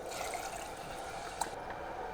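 A cup of water pours into a pan of hoisin sauce, a quiet steady trickle that sounds brief and close.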